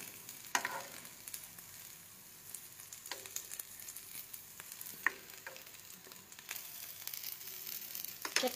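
Sabudana vada cooking in a pan with little oil, heard as a quiet, steady low sizzle broken by scattered small pops and crackles.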